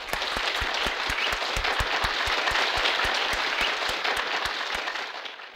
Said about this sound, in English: actually give her an applause